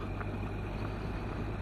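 Honda CBF 1000 motorcycle engine from 2009 cruising in top gear at about 30 mph, a steady low hum and rumble blended with wind noise and no speech.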